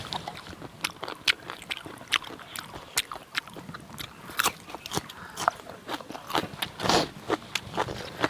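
Someone chews fresh raw squid, producing close, irregular crunchy bites and wet chewing clicks scattered over several seconds, with no talk.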